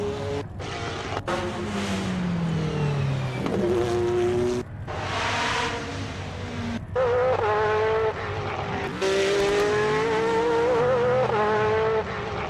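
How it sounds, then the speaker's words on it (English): A CLK race car in a racing video game, its exhaust heard from behind, wails loudly and high-pitched, rising and falling through gear shifts with short cuts between runs, no talk. "This is the exhaust from behind, but listen to how high-pitched this is"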